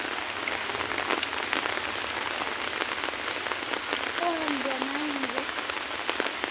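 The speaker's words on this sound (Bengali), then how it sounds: "তো আল্লাহর রহমতে দেখেন অঝরে বৃষ্টি ঝরতেছে কিন্তু।" Heavy rain pours steadily on a riverside area in Bangladesh, a dense continuous hiss with scattered drop impacts; a brief faint voice rises near the end under the downpour.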